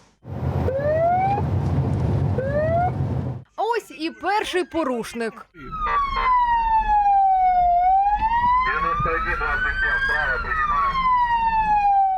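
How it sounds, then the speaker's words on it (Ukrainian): An ambulance siren wails loudly in road traffic during a police check of whether drivers yield, its tone sweeping up and down over engine noise, broken by a short burst of speech midway. "Все аби перевірити, чи поступаються водії кареті із сиреною."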